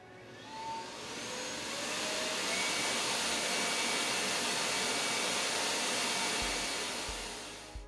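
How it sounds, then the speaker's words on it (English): A cyclone dust collector connected to a Makera Z1 CNC machine runs continuously, a broad steady whoosh and whir that swells up, holds, then eases off near the end, with no talking. "I'm using the Cyclone dust collector plugged into the port at the back of the Z1."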